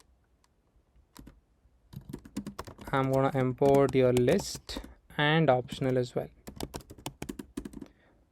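Code being typed on a computer keyboard, with rapid, light clicking keystrokes in uneven bursts running under a man's steady speech.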